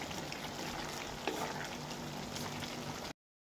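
Cuttlefish adobo with salt added being stirred in a hot pan: a continuous close sizzle and bubbling with a faint scrape of the spoon, no talking.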